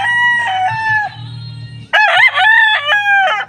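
A white Kelso fighting rooster crows loudly twice, long harmonic calls with a short pause between, the second crow rising and wavering; low clucking sits underneath.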